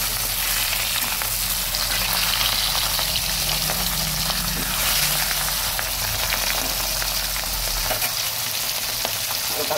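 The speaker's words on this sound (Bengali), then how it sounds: "ঢাকা তুলে মাছগুলো হালকা ভেজে দিচ্ছি।" Pabda fish frying lightly in oil in a covered pan just opened, a loud, dense, continuous sizzle and crackle that fills the whole stretch with no talk.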